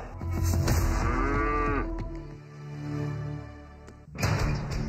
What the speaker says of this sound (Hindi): हाँ, वहाँ भैंसे हैं